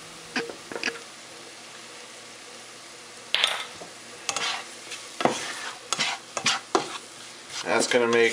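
Flour being stirred into hot oil in a pan for a roux, heard as a series of close scraping and stirring strokes in irregular bursts over a faint sizzle.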